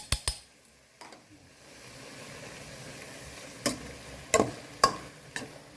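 Beef stir-roasting in a pan with a little salt for Lao larb gives a soft, steady sizzle punctuated by a few sharp clacks of a utensil against the pan.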